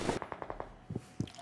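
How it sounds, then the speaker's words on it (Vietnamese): Gunfire from the PUBG Mobile video game: a rapid burst of about six shots, then two more separate shots after a short pause, crisp and fairly close. "Bên khu nhà K, nhà A, nhà máy thì tùm lum tiếng súng hết luôn."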